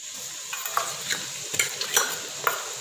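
Onions with ginger-garlic paste fry and sizzle in a pan while a wooden spoon stirs them, giving repeated scraping strokes over a steady close sizzle, with no talking.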